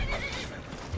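A horse in the video game Skyrim gives a short, shrill neigh and whinny, loud and close, filling the whole moment with no talking.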